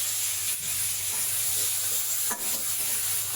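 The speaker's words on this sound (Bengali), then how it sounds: "এখন দেবো পেঁয়াজ।" Onions sizzle in hot oil in a pan, a steady broadband frying hiss that runs throughout with a brief stir or clatter near the end.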